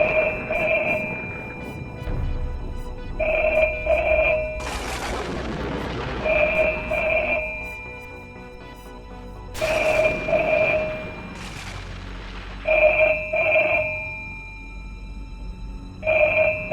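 A telephone rings inside a house in a horror drama. The ring comes in repeated double bursts at a steady rhythm, mixed with deep booming sound effects and swelling whooshes.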